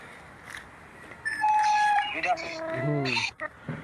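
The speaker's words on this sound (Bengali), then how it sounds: "তো এখন আসলে আর 2টা মুরগি আছে।" Chickens on a small backyard coop cluck and call in short overlapping bursts, a few bright pitched squawks rising over a faint outdoor background.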